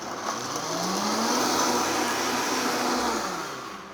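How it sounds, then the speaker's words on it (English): A blender whirs loudly and steadily for a few seconds, blending a marinade with oil, its motor droning close by before winding down at the end. "Enough to just get everything going in the blender."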